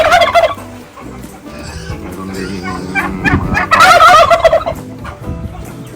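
Turkeys on a free-range backyard farm gobble loudly and close, several bubbling calls overlapping in bursts, with a few words of talk mixed in among the racket.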